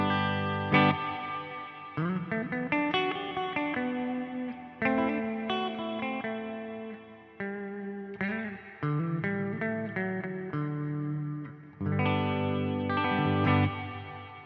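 An electric guitar plays melodic phrases through a reverb pedal with no pitch shift, notes ringing out and overlapping with a lush, spacious wash, no voices.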